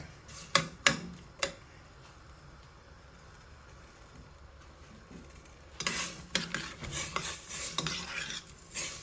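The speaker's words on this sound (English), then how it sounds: "Let it saute in the butter" Chopped onions sauté in butter in a pan under a quiet, faint sizzle, with sharp clinks of a utensil on the pan at the start and a busier stretch of scraping and tapping toward the end.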